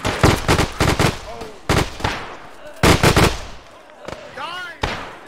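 A machine gun lays down cover fire in a WWII trench battle during the Third Battle of Kharkov, loud clustered bursts of rapid shots with gaps between them and ricochet-like whines in the quieter moments.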